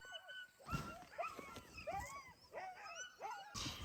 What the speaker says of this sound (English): This was our dog sledding evening.